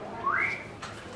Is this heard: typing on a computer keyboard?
no